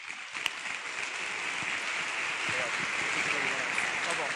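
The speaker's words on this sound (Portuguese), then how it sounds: "Uma salva de palmas," An auditorium audience at a lecture on autism spectrum disorder claps in a steady, dense roll of applause that holds even and moderately loud for the whole stretch.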